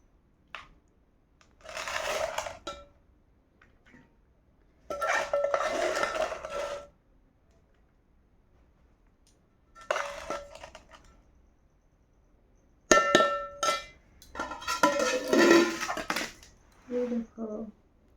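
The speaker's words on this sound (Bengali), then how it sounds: "দুজনের প্লেট সাজানো হয়ে গেছে।" Plates and cutlery clinking while chicken biryani is served at home, in several separate bursts of light clattering and scraping with quiet gaps between them.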